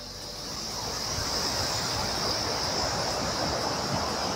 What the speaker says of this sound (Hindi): नदी बह रही है